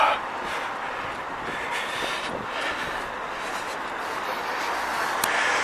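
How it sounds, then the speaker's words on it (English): Steady rumbling of a train with a broad hiss of rail noise, continuous and fairly loud, with faint squeals and clanks at Leeds train station, England. "down this way you've got the Leeds train station"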